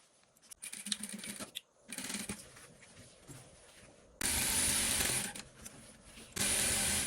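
A sewing machine stitching a sleeve seam in bursts: several short runs of rapid whirring, then two longer, louder stretches, with quiet handling noises between them.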